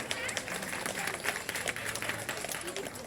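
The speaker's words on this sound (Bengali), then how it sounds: "সেই রাজদীপ এবং শুভ্রপ্রকাশ লাহার উদ্দেশ্যে সকলে একটা জোরে হাততালি হয়ে যায়" An audience claps at the inauguration of a free school for students. The applause is dense and steady and rather quiet, with faint crowd murmur mixed in.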